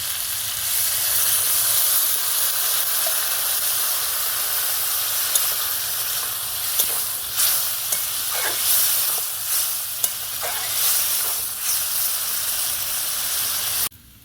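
Jackfruit seeds and potatoes in a pot after water is poured in give off a loud, steady hiss of steam and bubbling, with a few soft utensil taps partway through.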